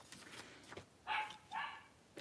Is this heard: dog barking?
yes